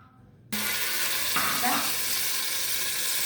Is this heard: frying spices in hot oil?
yes